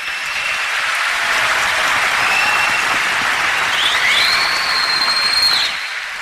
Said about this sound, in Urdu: کہانی ہے تو بھرپور تالی بجائیں، ایسے چک چک سے کیا ہوتا ہے